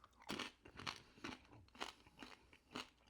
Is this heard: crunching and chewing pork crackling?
yes